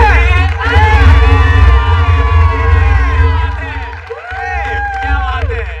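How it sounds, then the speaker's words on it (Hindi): A crowd at a live comedy show roars and whoops for the final act, loud and sustained, with high shouts and whistles over a dense wash of cheering throughout. "Make some noise for the final act."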